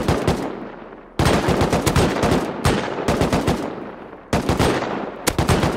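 Rapid bursts of automatic gunfire in a Rust firefight, loud and close, with several sustained volleys broken by brief pauses.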